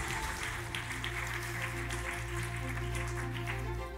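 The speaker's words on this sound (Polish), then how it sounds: "proszę raz jeszcze o brawa" A conference audience at an innovation awards event applauds in a hall, the soft clapping blended with a steady low hum from the room's sound system, moderate and continuous throughout.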